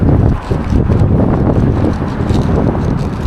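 Strong wind roars across the microphone outdoors while a large kite pulls hard in New York City, a loud, steady, blustery rumble that dips briefly and then holds, with no voices.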